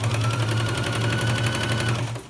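An electric sewing machine runs a short, continuous burst of stitching on a patiala pant, with a loud steady motor hum and rapid needle clatter that fades out at the end.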